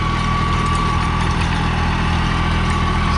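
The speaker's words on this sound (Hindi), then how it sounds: "शक्तिमान कंपनी के 8 फुट रोटावेटर के साथ में ट्रैक्टर चल रहा है।" A New Holland 3630 Plus tractor fitted with a Shaktiman 8-foot rotavator runs at about 1800 RPM, a loud, steady, close engine drone with a constant low throb and a faint whine, no voices.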